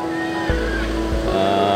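Ocean waves break at Indrayanti Beach in Gunungkidul, Yogyakarta, a steady, loud wash of surf with a deep rumbling swell across the whole stretch.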